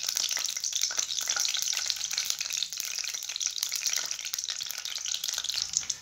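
Whole spices, cumin, bay leaf and cinnamon, sizzle steadily in hot oil for a chicken karahi, a dense continuous frying hiss that holds at even loudness from start to finish with no voices.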